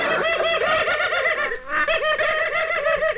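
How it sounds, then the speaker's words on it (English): A bird's excited caw, repeated rapidly in a steady run of harsh calls, loud and close, with a short break in the middle and no voices. "Over on the left is the caw of excitement."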